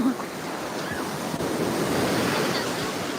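Sea waves washing onto Tiruchendur beach, a steady loud rushing surf with wind buffeting the microphone and faint voices in the background.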